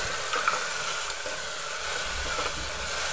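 Tomato frying with spices in oil in a pan while cooking mutton paya, a steady soft sizzle and hiss with occasional stirring scrapes, no talking.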